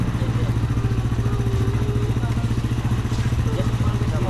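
A motorcycle engine runs steadily up close, a loud, pulsing low rumble that holds constant throughout.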